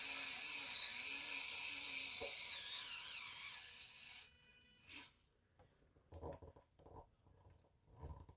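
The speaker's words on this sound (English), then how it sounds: "So this little electric screwdriver is rechargeable with a C port, class C port." A small rechargeable electric screwdriver with a USB-C port whirs as it drives a screw, a steady motor buzz for about four seconds, then a few short handling clicks and knocks.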